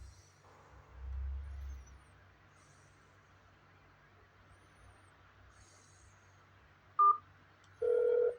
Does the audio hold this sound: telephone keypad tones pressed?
yes